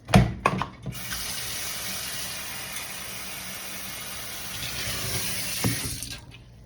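Tap water runs steadily into a container being filled for cooking rice, a continuous splashing stream lasting several seconds after a few brief knocks at the start, fairly close and alone without talk.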